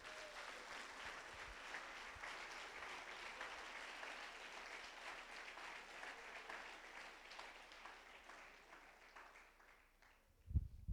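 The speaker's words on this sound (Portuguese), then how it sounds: "Aplauda esse Jesus maravilhoso." A church congregation applauds during a Sunday Easter service, with steady, sustained clapping from a large crowd that fades slightly before a brief louder burst at the end.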